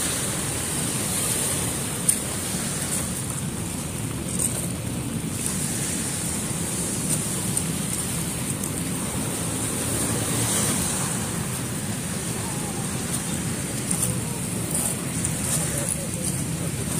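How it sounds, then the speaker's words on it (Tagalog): Steady rushing surf of sea waves at Manila Bay, continuous and fairly loud, with a broad wash of noise and faint wind throughout. "Ang alon."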